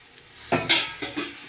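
A spoon scrapes and stirs jackfruit roast ingredients in a pan, giving four quick close-up strokes with a light sizzle under them. No one speaks.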